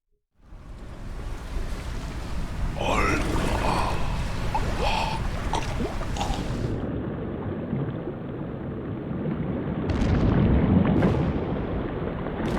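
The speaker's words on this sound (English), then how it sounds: "Oh no! Everything's exploding!" Explosions roll through a Metal Gear Solid 2 game scene, a dense rumbling wash of blasts and debris lasting the whole stretch, swelling louder near the end.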